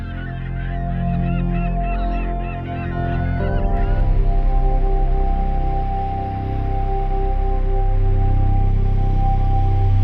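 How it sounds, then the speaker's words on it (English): Seabirds on the remote Faroese island of Fugloy give a quick run of honking calls over a constant low engine drone, then fall silent as the drone continues alone. "It is home to millions of seabirds"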